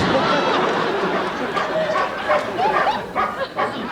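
A dog barks and yips amid a busy, noisy room, with people talking over it; the barks are short and irregular, fairly close.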